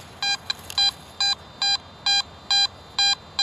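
A metal detector sounds a repeated high-pitched tone on a target while detecting for gold and silver in Australia, eight short even beeps about half a second apart, clear over a quiet outdoor background.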